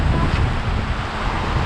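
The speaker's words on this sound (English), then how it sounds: "Look at this river." Steady broadband rushing water from a small mountain river flowing close by in Turkey, with wind buffeting the microphone throughout.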